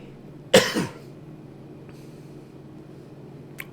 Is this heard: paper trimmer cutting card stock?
no